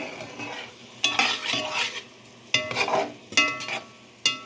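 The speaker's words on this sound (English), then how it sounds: "Now you mix it all together, and your meat should start to look orangish" Meat is stirred in a hot cooking pan, with several scraping, clattering strokes of a utensil in uneven bursts over a soft sizzle, close and fairly loud, no talking.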